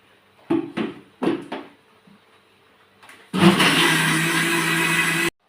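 A mixer grinder churns soaked rice with water into palada batter. A few short knocks and clatters come first, then a loud, steady whirring runs for about two seconds and stops abruptly.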